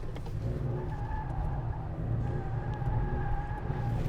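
Ford Explorer ST SUV on an autocross course, its engine a steady, loud drone with rising revs and some tire noise, continuous throughout without talk.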